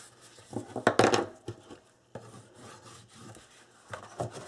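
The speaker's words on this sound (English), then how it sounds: "Burnish that in really good." Paper being burnished onto album corners with a tool, a few short rough rubbing strokes in close bursts, separated by quiet gaps.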